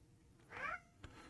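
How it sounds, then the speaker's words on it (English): A small cat gives a single short, faint meow in a quiet indoor room, followed by a soft thump. "It's one of my little cats saying hi."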